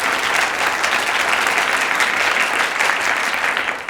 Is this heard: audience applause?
yes